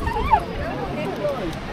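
A small dog on a seaside pier in Cromer, Norfolk, gives a couple of short high whimpers and yips amid outdoor crowd murmur and nearby talk.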